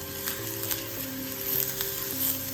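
Curry leaves and coriander sizzle in hot oil, a bright steady crackling hiss with a low hum beneath, heard close and alone.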